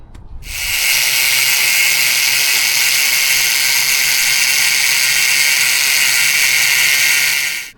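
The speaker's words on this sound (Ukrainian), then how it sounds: "ми вирізаємо е, недостаючу пластину між верхньою та нижньою частиною кріплення" A power tool cuts a metal steering mount plate with a loud, steady high-pitched grinding whine that starts abruptly and holds for about seven seconds before stopping, close and without talk.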